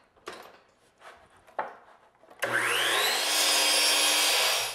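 A power saw cuts an outside corner miter in crown molding, starting after a few scattered handling knocks and then whining loudly and steadily to the end.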